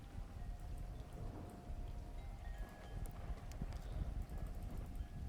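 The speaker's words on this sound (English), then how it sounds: "except for the rain and the wind chimes" Steady rain patters and drips outside, a soft constant hiss with scattered droplet taps, wind chimes, and a faint tonal hum in the background.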